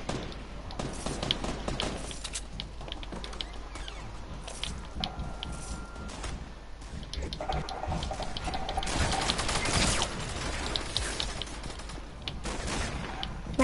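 Gunfire in a Fortnite solo match, a steady stream of faint, rapid distant shots and crackles running throughout, with a louder cluster of blasts near the end.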